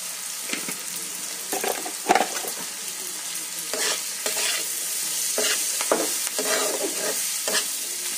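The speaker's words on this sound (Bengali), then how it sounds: "চিকেন, চিংড়ি, ডিম সব মিশিয়ে নিচ্ছি" Chicken, shrimp and egg get stirred together in a hot pan with a spatula, sizzling constantly under irregular scraping strokes, close and fairly quiet, with no voices.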